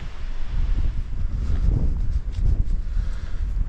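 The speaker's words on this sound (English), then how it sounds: "it's quite windy" Low, blustery wind buffets the microphone outdoors on a boggy hilltop, a constant rumbling roar that swells and dips without any voices.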